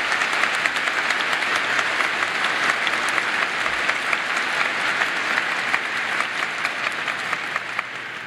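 Sustained applause from the audience at a Ball State University fall commencement ceremony, a dense, even wash of many hands clapping that holds steady throughout.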